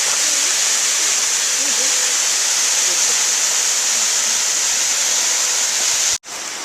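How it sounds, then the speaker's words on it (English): A loud, continuous roar of falling water, unbroken throughout, with one brief dropout near the end. "There's the waterfall that's making all that noise."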